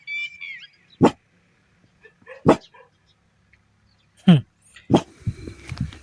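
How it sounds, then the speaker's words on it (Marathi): A village dog barks several times, sharp close barks spaced a second or more apart, with people talking nearby in rural surroundings. "गावठी कुत्रे गावठी कुत्रा म्हणजे तुम्हाला माहिती आहे किती इमानदार असतो"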